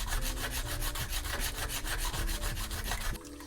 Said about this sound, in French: j'ai mis ma pierre à Thomas sur un support à pierre, puis là, ça ne bouge plus du tout